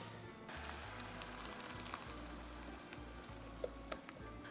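Chile relleno sauce sizzles and spatters in a pan on medium heat, a soft continuous crackle with scattered sharper pops and a low background hum, heard alone and fairly faint.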